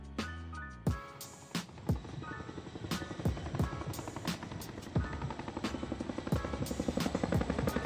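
Military aircraft performing a flying display at an Indian Air Force day celebration in Chandigarh, a steady loud engine drone with rotor-like pulsing and repeated sharp bangs or thumps spaced through the passage.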